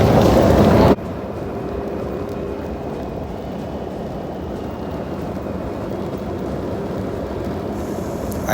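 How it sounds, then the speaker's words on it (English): Toyota Land Cruiser engine held in neutral, a steady, close, mid-level drone with a constant rumble that runs on without a break after a brief louder burst at the start. "have a listen to the engine revs of the cruiser"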